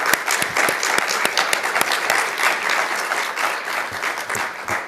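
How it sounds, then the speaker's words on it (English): A conference audience gives sustained, dense applause for a public health Birth to 3 team, many hands clapping loudly and evenly throughout the whole stretch. "can we give one more round of applause to Lee Turney so he really feels it online?"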